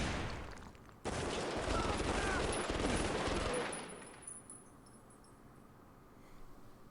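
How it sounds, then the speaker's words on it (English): Guards in the prison-management video game Prison Architect open fire in a dense, rattling volley of game gunshots lasting a couple of seconds, then fading into a quiet tail with faint metallic clinks. "Benedict didn't shoot Wallace. The guards did."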